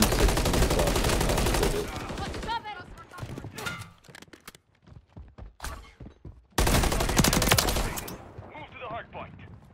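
M16 rifle firing in Modern Warfare III, with loud rapid automatic bursts at the start and again later, separated by quieter stretches of clicks and mechanical sounds, and a voice heard in between.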